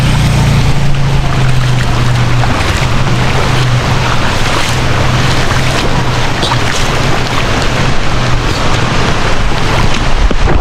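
Heavy rain pours as floodwater rushes from an overflowing creek, a dense, loud, continuous roar of water with a low engine-like hum underneath early on, and no voices.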